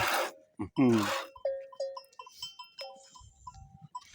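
Several short bleats from sheep, some overlapping, following a burst of human voices at the start; fairly close with outdoor farmyard ambience in Eğirdir, Turkey.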